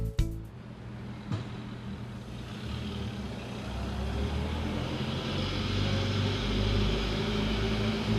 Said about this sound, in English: Now it's time to go drive the McLaren again.